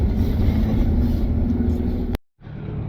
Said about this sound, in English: I hear a lot of boats out there, crabbers